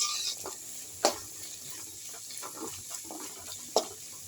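Chopped onions sauté in a hot pan, giving a steady soft sizzle with a few sharp clicks of a spoon stirring against the pan; no one speaks.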